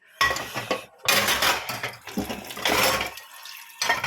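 Water splashes into used dishes and pots piled in a kitchen sink, with clattering metal and ceramic knocks and a rushing, gurgling pour, close up in irregular bursts over a few seconds.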